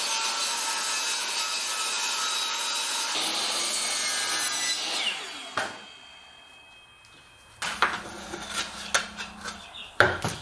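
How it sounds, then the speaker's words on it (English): A power saw rips T1-11 plywood siding cut-offs into 5-inch strips, a loud, steady whine for about five seconds, then quieter knocks and handling as the pieces are moved. "what I'm going to do is rip these to 5 inches so I can make some toe kicks"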